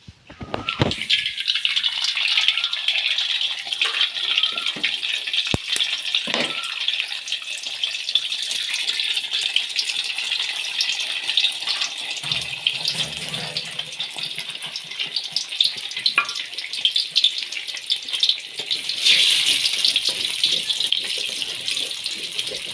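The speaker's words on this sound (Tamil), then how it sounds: "ரெண்டு முட்டையை வந்து உடைச்சி ஊற்றுவோம்" Two eggs poured into a hot pan for Tamil-style kothu roti give a loud, steady hiss and sizzle that runs on without a break, with a few faint knocks and clinks near the start.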